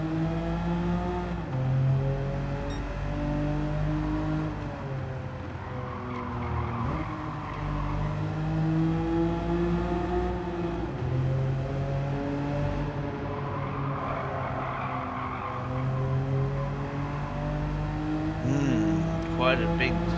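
A Porsche 930 race car roars through a racing game, its engine droning and rising in pitch with repeated shifts, tires squealing now and then, while a voice talks over it throughout.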